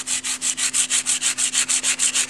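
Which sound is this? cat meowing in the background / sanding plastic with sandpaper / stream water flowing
sanding plastic with sandpaper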